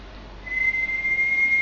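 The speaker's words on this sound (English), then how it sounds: "Some of you grew up with those kettles that began to whistle when they got hot." A thin, steady high-pitched kettle whistle starts partway in and holds continuously over a soft background hiss.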